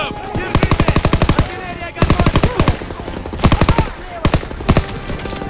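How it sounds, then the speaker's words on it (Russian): Machine gun fire in the World War II shooter Call of Duty WWII, rapid automatic bursts in about four separate volleys, loud and close with battle noise between them. "Мы не пройдем, пока не избавимся от этих пулеметов!"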